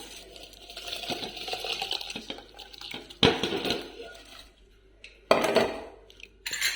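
Rice poured into boiling water in a pot for tomato rice, with rattling, pattering bursts of grains hitting the pot and water in a few separate pours, close and fairly loud between quieter bubbling stretches.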